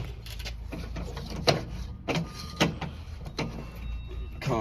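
Welding wire spool being removed from a welding machine: a few sharp clunks and plastic knocks spaced over a few seconds, close and moderately loud against a steady background hum, with no talk.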